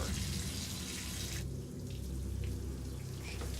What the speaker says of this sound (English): He turns on the shower.